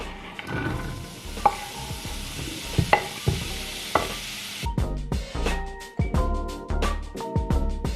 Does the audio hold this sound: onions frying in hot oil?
yes